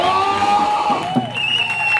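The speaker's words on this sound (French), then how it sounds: "les acclamations pour le Seigneur Jésus-Christ" A church congregation at a deliverance service cheers and acclaims Jesus Christ, a dense, loud swell of voices with whoops and tonal shouts in a hall, continuous over two seconds with speech mixed in.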